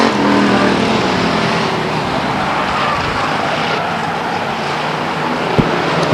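Stock cars racing at Stockton 99 Speedway, a loud steady roar of several engines passing close, continuous throughout with no voices.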